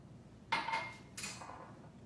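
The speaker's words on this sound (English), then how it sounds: "we're just gonna stir this up until it kind of comes all together" A spoon scrapes and clinks against a bowl while stirring peanut butter, soy sauce, rice vinegar and brown sugar into a peanut sauce, two short bursts close by with no talking.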